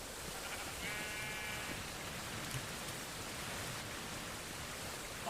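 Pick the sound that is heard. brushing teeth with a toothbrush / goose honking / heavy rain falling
heavy rain falling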